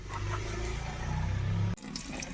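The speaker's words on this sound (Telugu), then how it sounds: "దీంట్లో వాటర్ పోయాలి" Water pours into a car battery as a steady, close gurgling stream for nearly two seconds, then stops abruptly and leaves quieter background sound.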